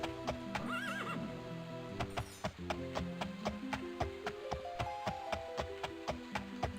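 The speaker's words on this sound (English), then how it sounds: "Horsey." Horse from the Daggerfall video game: a steady run of clip-clopping hooves with a neigh and whinny near the start, close and fairly loud, without talk.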